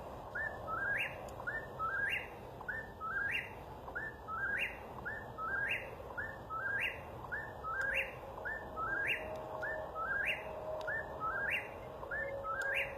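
An Eastern whip-poor-will calls at night from a branch close overhead, its three-part whistled song repeating steadily about every second over a soft background hum of distant road noise.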